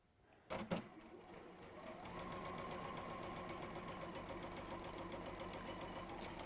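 A sewing machine stitches a seam with the presser foot down. A couple of sharp clicks come first, then the motor speeds into a steady, rapid, evenly pulsing run that continues close and moderately loud.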